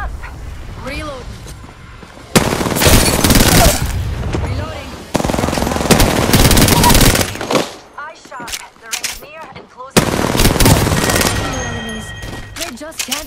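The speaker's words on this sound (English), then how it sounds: "Being shot at." Video game machine gun fire comes in long, loud rattling bursts that alternate with quieter stretches filled with game voice lines and other effects.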